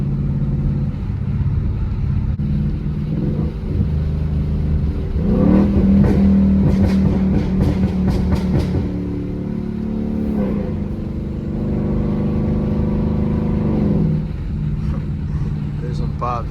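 A car engine revs hard in repeated bursts, with sharp crackling exhaust pops as the revs drop, loud and close over a steady idle.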